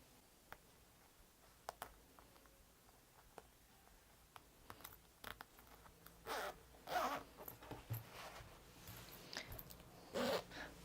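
A zipper slider is pulled along a fabric toiletry bag with embroidery, giving a few short, scratchy zipping strokes up close and quiet, separated by faint clicks and handling noises.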